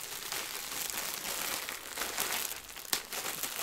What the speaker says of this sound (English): Oh, rip it open.